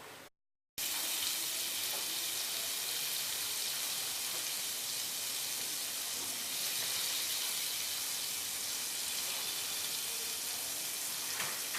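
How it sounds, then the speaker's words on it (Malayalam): Butter melting in a hot pan before idli shapes are added, a steady close-up hiss and crackle that starts suddenly after a brief gap and continues evenly throughout without talk. "ഇനി ഇതിനകത്തേക്ക് ബട്ടർ ഉരുകിക്കോട്ടെ നമുക്ക് ഇട്ട് കൊടുക്കാം"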